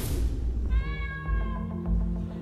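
A cat meows in a video game trailer, one drawn-out, clear meow with a rising, wavering pitch, heard close and over a low background of music and rumble.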